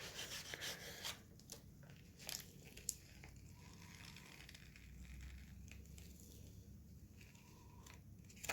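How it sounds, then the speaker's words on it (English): Dry rubbing over a painted sunset silhouette canvas where the paint had started to lift, a soft continuous scrubbing texture with a few light taps, close and fairly quiet. "I'm going to go and rub it all over where it was starting to lift"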